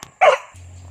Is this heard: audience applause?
no